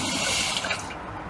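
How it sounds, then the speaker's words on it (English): A cup of vinegar is poured into a pan to start pub-style pickled eggs, giving a steady, close splashing stream of liquid that tapers off near the end. "Now you start with a cup of vinegar, put it in a pan."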